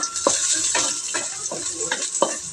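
Onions sautéing in a hot pan for a mussel stew, a steady close sizzle broken by about six sharp scraping stirs of a utensil against the pan at a fairly even pace.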